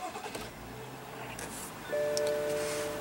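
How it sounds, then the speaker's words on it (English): A 2015 BMW 535i with a 3.0-liter turbocharged inline-six idles just after a push-button start, a low, smooth, steady engine hum heard faintly and close, with a slight rise in level partway through and no talk. "what you're hearing is that 3-liter inline 6-cylinder turbo powertrain"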